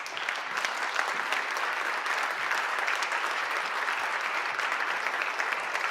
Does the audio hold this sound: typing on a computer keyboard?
no